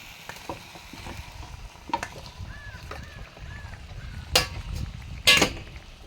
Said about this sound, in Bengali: এবারে আমি ফ্রাই চিকেনগুলো দিয়ে দিলাম।